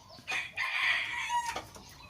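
A golden or yellow pheasant, kept as a farm bird, gives a harsh, raspy crowing call of about a second, followed by a shorter second burst, close and fairly loud against a quiet background.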